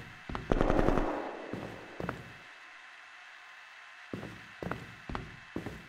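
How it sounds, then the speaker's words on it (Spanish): Bursts of rapid video game gunfire aboard a spaceship with sharp, separate shots, loud at first and then returning in short volleys after a quiet gap. "Se están escuchando tiros."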